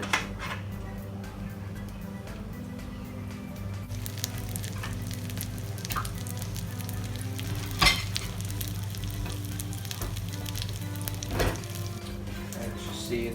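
Chicken Kiev sizzles steadily in a hot frying pan, a close and continuous fry with occasional clinks and knocks of a utensil against the pan.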